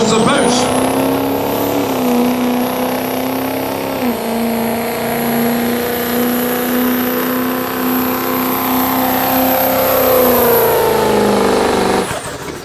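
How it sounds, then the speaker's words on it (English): A work stock 2.6 diesel pickup strains under load at a truck pull, its engine droning loud and steady as boost builds, with a high turbo whistle sustained for about twelve seconds before cutting off. "And here we go as he builds the boost."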